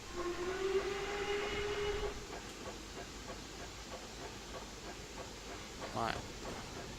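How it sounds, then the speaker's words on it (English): A Black 5 steam locomotive on the Whitby and Pickering heritage railway sounds its whistle in one steady tone for about two seconds. The train's low rumble follows, with a short burst of hissing steam near the end. "Whistle."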